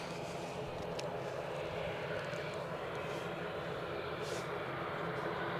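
ATR turboprop aircraft departing Edinburgh Airport, a steady distant engine drone with broadband rumble, continuous and fairly faint, with talking over it.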